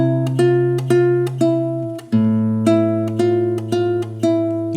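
Guitar hook from a song, section A: a clean repeating riff of plucked notes over a sustained low note, each attack ringing out in an even rhythm, close and clear with no talk.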